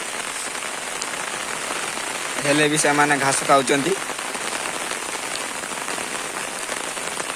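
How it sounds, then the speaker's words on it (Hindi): Heavy rain pours down steadily outdoors where sheep are grazing, a dense, continuous patter throughout, with someone briefly talking over it in the middle. "मेघ बड़ जोर होचु"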